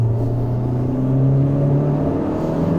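A tuned 400 hp Honda Civic Type R 2.0 turbo pulls hard in third gear from about 3000 rpm, its loud, droning engine note rising steadily from inside the cabin.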